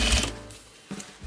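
A sewing machine stitching a seam in denim cut from a pair of jeans gives a brief mechanical whir at the start, a quieter lull, then a short second burst of clatter.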